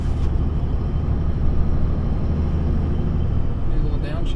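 A Dodge Ram 3500 pickup with a rebuilt Mercedes G56 manual transmission, heard from inside as a loud, steady, low engine drone that runs unbroken throughout.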